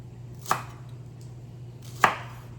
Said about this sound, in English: really just about getting your chopping done